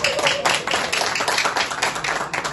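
An audience applauding at a gathering, with dense, loud clapping from many hands sustained throughout.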